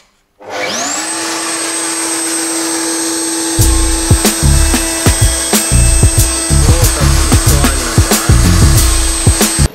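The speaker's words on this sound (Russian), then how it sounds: "Чё, пилим?" A power tool starts with a steady high whine, and after a few seconds it begins cutting a wooden custom skateboard deck, adding a loud, close, rhythmic rasping sawing with uneven bursts.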